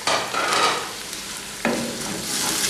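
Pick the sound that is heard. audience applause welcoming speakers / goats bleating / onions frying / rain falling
onions frying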